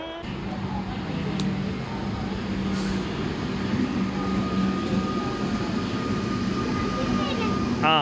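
A Melbourne metro train arriving at a station, a steady rumbling roll with a low hum and rising metallic squeal near the end, loud and close throughout.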